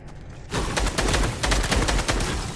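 SCAR assault rifle firing in Fortnite, a loud rapid burst of closely spaced gunshots lasting about two seconds after a brief quiet start.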